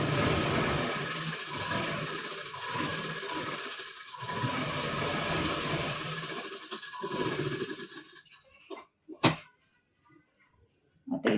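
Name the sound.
sewing machine stitching a blouse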